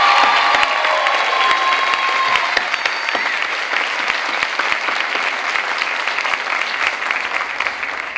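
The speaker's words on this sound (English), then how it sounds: "Would you join me in a round of applause thanking the buildings and grounds crews that worked so hard" A large crowd applauds at a 2003 community college commencement ceremony, sustained dense clapping that fills the hall and slowly eases over several seconds, with faint cheers mixed in.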